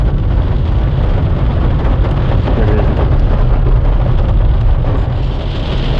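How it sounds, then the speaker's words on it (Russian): Loud, continuous low rumble of thunder before a summer storm during a riverside fishing trip in early May, a broad roaring wash that holds steady throughout with no voices. "Ого, громко гремит. Все трясет."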